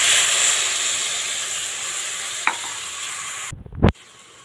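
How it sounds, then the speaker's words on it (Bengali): Water poured into a hot pan holding turmeric, sugar and salt while making cauliflower dal, giving a steady sizzling hiss throughout, then a brief loud burst of spitting and bubbling near the end. "এবার আমি জল ঢেলে দেবো।"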